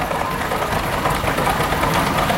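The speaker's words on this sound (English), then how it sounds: "Tim Fern and family, that's their John Deere A from 1937." A 1937 John Deere A tractor engine runs steadily at an antique power show, a continuous rough, throbbing mechanical drone that stays close with no speech over it.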